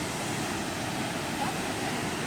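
A waterfall on Jeju Island pours in a steady, even rush of falling water that fills the scene without a break, with no voices heard.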